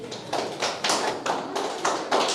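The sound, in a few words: applause for the Abo Tani Clan Organization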